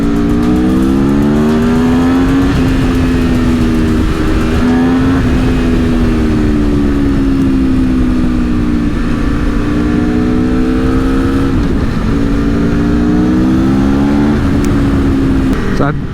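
Aprilia Tuono V4 motorcycle engine loudly revving and accelerating through rising and falling gear pulls on a test ride, with steady wind and road noise throughout and a person talking over it.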